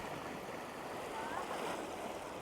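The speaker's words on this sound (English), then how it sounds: "See the water comes crashing in." Sea waves crashing onto rocks at Enoshima Island, a continuous rushing wash of surf with a slight swell midway, close and steady.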